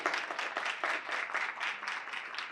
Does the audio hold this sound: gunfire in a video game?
no